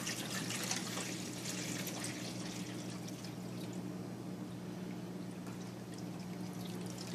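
An Electrolux 10-place stainless steel dishwasher (LI10X) draining its water early in a long wash cycle, a steady continuous pouring and gushing rush with a low hum underneath, moderately quiet and unbroken throughout.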